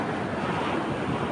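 Sea waves wash steadily onto a beach before dawn, a continuous broad surf roar with some wind rumble, no voices over it.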